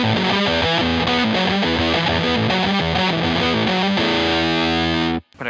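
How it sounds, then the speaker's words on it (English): Electric guitar riff played through a Big Muff fuzz pedal, thick saturated distortion chugging in a steady rhythmic pattern, loud and close, then a sustained chord ringing before cutting off abruptly near the end. "The next one is the riff, which is just the big muff, sounds a bit like this."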